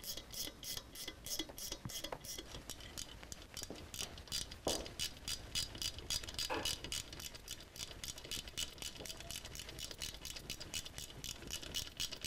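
A wrench torques rocker support bolts on a stock 2010 Harley-Davidson FLTRX engine with S&S upgrades, a long run of quick, evenly spaced ratchet clicks, close and fairly faint.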